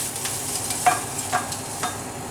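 Bacon sizzling in a frying pan, a soft continuous hiss with a few brief louder scrapes as it is stirred or lifted out, close and fairly quiet.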